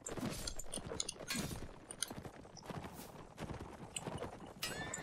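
Horses in the Mount and Blade video game whinny loudly while hooves clop in quick bursts, mixed with clanking and battle noise, close and busy throughout.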